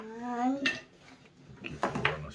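A spoon stirs tablespoon of sugar and teaspoon of salt in a bowl, a few quick clinks and scrapes of metal against the dish, close and moderately loud, with a voice speaking over the start.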